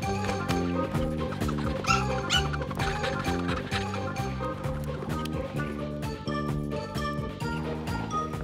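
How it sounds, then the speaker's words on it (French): A cartoon dog barks and whimpers in quick, yipping bursts, set against a busy, rhythmic musical score that runs throughout. "Il faut qu'on lui ramène son chien Sibi."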